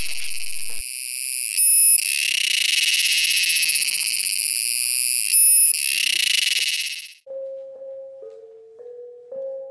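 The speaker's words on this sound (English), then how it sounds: "You might not notice this small cicada, but you can't miss the loud buzz." A small cicada in the primary forest of Sumatra's Gunung Leuser National Park gives a loud, close, piercing electric buzz lasting several seconds with brief surges, then stops, followed by a few soft, lower tonal chirps.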